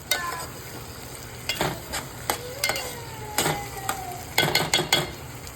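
Ginger garlic paste fries and gets stirred in a pan, giving a steady close sizzle broken by scraping strokes and light clinks of a spoon against the metal.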